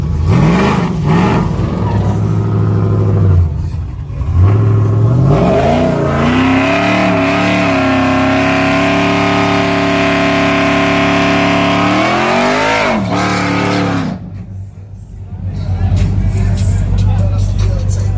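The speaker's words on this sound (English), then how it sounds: "he finna race one of these trucks that ain't got no grill with a cam in it, LS motor" A cammed LS-engine truck with no grille revs hard at a street race, a loud rising engine roar holding steady then dropping off, with crowd chatter around it.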